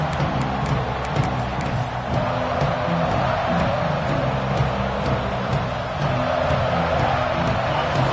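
A football stadium crowd at a Buckeyes game roars in a dense, sustained wash of cheering and noise that holds steady throughout without clear individual voices.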